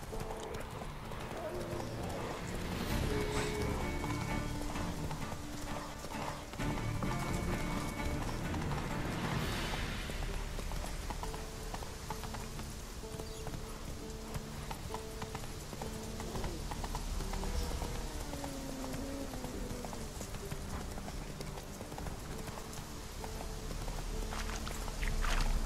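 A horse ridden in the game The Witcher 3 trots with steady, rhythmic clip-clop hoofbeats throughout, moderately close, with a whinny at one point and someone talking over the hooves.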